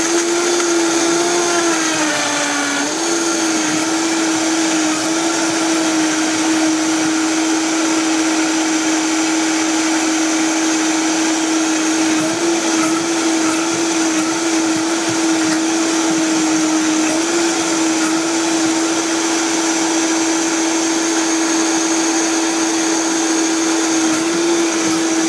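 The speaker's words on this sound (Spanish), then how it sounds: "lo batimos como unos 15 segundos, una batidora fuerte, en este caso la Vitamix" A powerful Vitamix blender blending a smoothie of strawberries, banana, mango and chocolate roars steadily for about twenty-five seconds, its motor pitch settling after a brief shift at the start, loud and close throughout.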